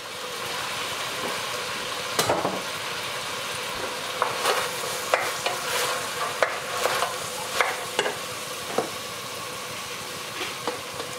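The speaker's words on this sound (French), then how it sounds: "Et on remue, oh là, pardon, et on remue le tout" A spoon stirs beans with vegetable stock in a saucepan, giving a steady wet sizzling bed broken by sharp clinks and scrapes against the pan at irregular intervals.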